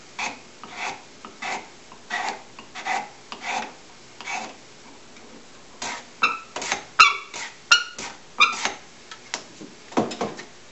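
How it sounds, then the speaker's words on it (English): A cabinet scraper is pushed across a wooden tenon to pare it down while a sea chest frame is being built, giving a steady series of short, close raspy strokes, about a dozen, that quicken toward the end. "I'm taking a scraper here, just a cabinet scraper, and I'm just going to scrape off"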